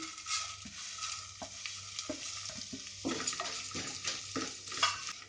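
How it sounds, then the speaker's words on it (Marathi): Vermicelli roasting in ghee in a pan, quiet sizzling under repeated scraping and stirring strokes of a spoon against the metal, close and steady, no talk. "शेवयो आमकां बऱ्यो फुलोवन घेवपाक जाय, रोस्ट करून घेवपाक जाय।"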